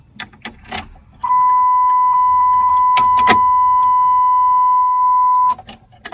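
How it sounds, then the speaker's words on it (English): Keys jingle and click as a key slides into the ignition of a 1983 Cadillac Cimarron, followed by a steady, loud electronic warning chime that holds for about four seconds before cutting off. "inserting key"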